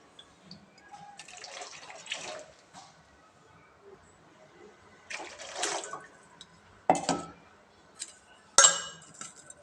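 Water poured in a few separate bursts into a pot of tomato rasam, with occasional clinks of utensils between pours.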